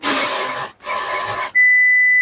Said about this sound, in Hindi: अभी पूरा प्रिंट हो चुका आगे पीछे।